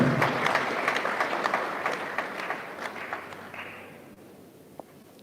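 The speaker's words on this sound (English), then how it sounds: "I think we can clap" An audience at an induction ceremony for newly qualified pharmacists breaks into applause, dense and steady at first, then thinning and fading out over several seconds.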